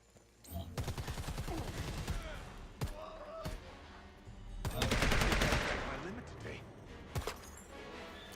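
In the Predator Hunting Grounds game, rapid automatic gunfire rattles in long bursts, with single sharp shots between them and a heavier sustained volley midway, while players talk over it.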